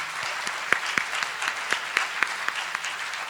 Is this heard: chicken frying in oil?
no